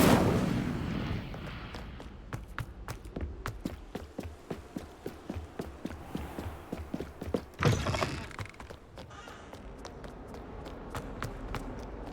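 Incendio fire spells cast in the Hogwarts Legacy video game, a rapid run of sharp crackling bursts and impacts with one louder whooshing blast midway, close and fairly loud.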